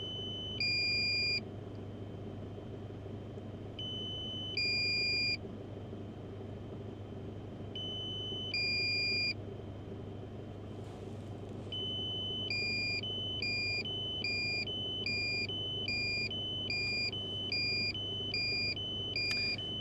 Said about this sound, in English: critical battery beep starts. It says critical low power, charge battery promptly.